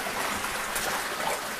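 River water flows with a continuous bright rushing hiss, steady and fairly close, with no voices over it.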